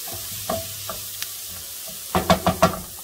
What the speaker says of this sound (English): these are my peppers and onions sauteed for a little bit